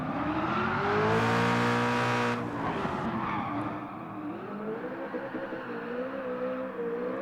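New Corvette with a racing exhaust sliding sideways through a long corner, a loud sustained engine roar with rising revs, then dipping into a rougher, lower drone as it holds the drift.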